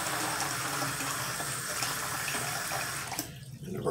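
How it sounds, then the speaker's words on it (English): Tap water gushes steadily into a shaving cup, a continuous close splashing rush that cuts off near the end. "Fill my cup with water,"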